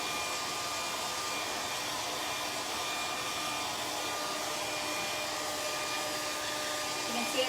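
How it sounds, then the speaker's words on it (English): Stain is buffed into wood with a steady, even whirring drone that holds at moderate loudness throughout, without speech. "You can see it's just buffing right into that wood like a permanent pledge."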